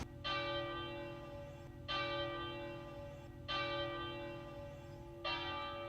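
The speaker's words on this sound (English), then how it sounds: "The bells, the bells." Church bells ring in Este, Italy, at seven in the morning. Four loud, resonant strikes come roughly every second and a half, each with a long humming tail ringing under the next, heard alone without talk.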